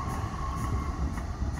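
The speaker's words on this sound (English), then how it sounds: "Yeah, get on that train." A train rolls through a station, a steady close rumble of wheels and rails with a faint tonal whine over it.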